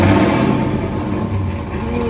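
A cammed 2007 Chevy Silverado V8 with a stage 4 cam, long tube headers and a CORSA muffler revs with a loud, choppy, lumpy exhaust burble that swells and eases.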